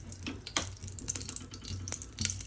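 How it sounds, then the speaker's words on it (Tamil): Ghee is poured into a cooking pot while paneer biryani is made, a faint, quiet trickle with soft splashy ticks and no voices. "என்னடி பண்ற? நெய் ஊத்துற"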